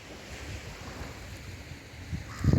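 Black Sea waves wash in a steady, muffled roar on an Odesa beach, mixed with wind buffeting the microphone, with a louder surge at the very end.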